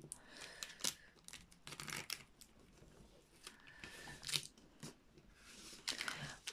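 Ordinary stationery tape is pulled and pressed over a paper bow template, giving quiet crinkling and tearing rustles in short irregular bursts, close and soft.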